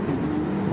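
A Jaguar race car engine hums steadily at high revs during a GTE racing video game, in a brief, even burst with no talk over it.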